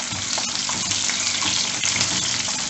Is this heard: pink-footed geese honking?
no